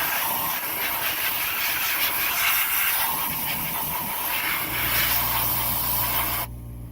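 Compressed air hisses and sprays loudly and continuously to dry a fuel system part, ending in a lower hum as the blast cuts off near the end.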